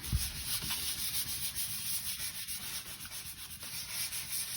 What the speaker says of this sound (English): Lots of hand sanding using a 400 grit right now.